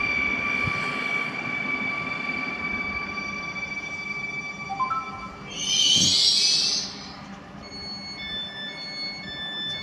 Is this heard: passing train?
yes